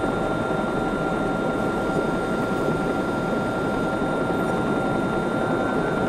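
Helicopter in the video game Watch Dogs, a steady loud rotor and engine roar that fills the whole stretch without pause, with no talking over it.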